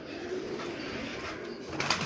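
Pigeons on a rooftop give soft, low coos against faint outdoor ambience, a brief louder burst near the end; no voices.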